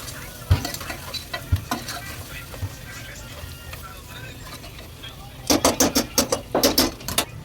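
Goat paya frying in oil in a pan, with soft sizzling under scattered scrapes and knocks, then a quick run of sharp clattering stirs near the end.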